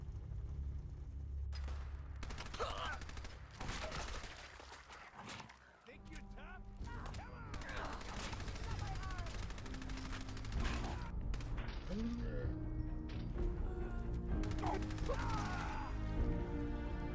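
Rapid bursts of PP19 Bison submachine gun fire in Fallout 4 crackle in repeated volleys over a steady game soundtrack, with a voice talking over much of it.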